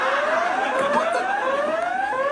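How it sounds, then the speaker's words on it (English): A toy blaster emits a siren effect: a loud, continuous electronic wail that sweeps upward in pitch over and over, with no speech. "That siren!"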